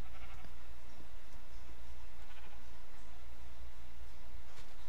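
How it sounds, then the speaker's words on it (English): Sheep bleat softly now and then in a video game over a constant wash of hiss and low rumble, with no one speaking. "Wow, a bunch of sheep."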